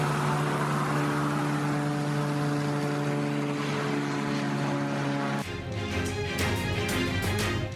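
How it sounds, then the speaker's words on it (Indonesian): An aircraft crosses the sky over Israel, a loud droning engine with strong steady tones that shifts abruptly near the end into a rougher pulsing roar. "Warga merekam sebuah pesawat melintasi langit Israel."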